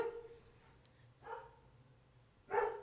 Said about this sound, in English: those dogs are pretty loud